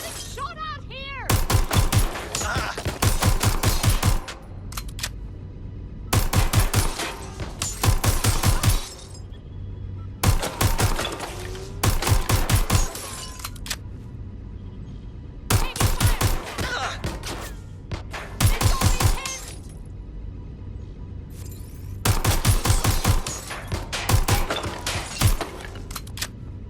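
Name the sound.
gunfire in the video game Watch Dogs Legion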